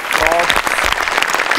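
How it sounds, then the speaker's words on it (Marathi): Loud, dense applause from a comedy show audience for the sets and props team, a continuous wash of clapping with voices mixed in. "त्यांच्यासाठी एकदा जोरात टाळ्या वाजवा."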